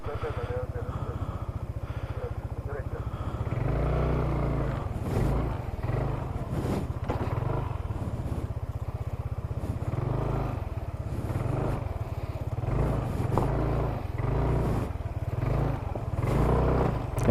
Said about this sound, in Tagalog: Tabi mo yung motor mo.